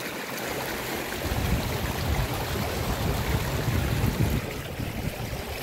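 Spring water pours steadily from the Kokaha drinking-water source above Dharan during the dry season, a continuous broadband rushing and splashing that stays loud and even throughout, with no voices.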